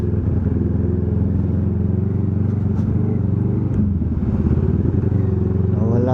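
Kawasaki Z900 inline-four motorcycle engine running nearby, a smooth continuous loud drone with steady idle rumble and slight rev changes, no talk.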